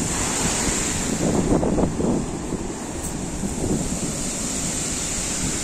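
Sea waves roll onto the shore at Eforie Nord by the Astoria pier in winter, a steady broad wash of surf with gusting wind buffeting the microphone, swelling a little midway, no voices.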